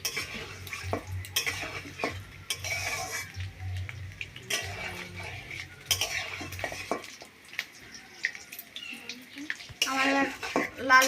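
Eggs frying in a pan for an egg gravy, with steady low sizzling and bursts of stirring, scraping and utensil clatter against the pan throughout, close and moderately loud.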